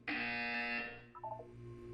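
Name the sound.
buzzer in Portal 2 video game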